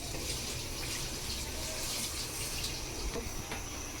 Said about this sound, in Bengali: ডাবের পানিগুলো আমি ফ্রাই প্যানে দিয়ে দিতেছি